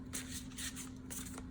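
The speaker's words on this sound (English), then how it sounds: "And now I feel like I need to shuffle again." Tarot cards shuffled by hand during a reading, a few quick crisp riffling bursts close by, soft and dry against a steady low hum.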